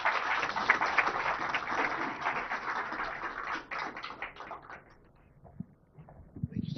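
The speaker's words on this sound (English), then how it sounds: "Please join me in giving the Honorable IT Minister a big round of applause." An audience at a government launch event applauds an IT minister who is about to give a keynote address, producing a fairly quiet, dense patter of clapping for a few seconds that thins out into scattered claps.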